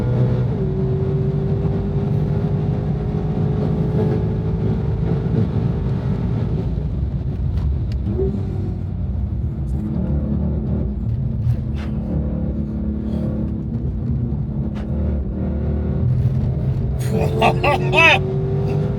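The Ford Mustang GTD's engine drones loud and close from inside the car as it pulls hard around a track. A rough, sustained roar with shifting pitch runs throughout, and a voice talks over it.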